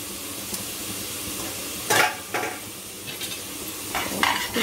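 Spices such as red chilli powder, salt and coriander are stirred in a cooking pan for sambar, giving a few brief scraping and clinking strokes of a utensil against metal over a faint sizzle.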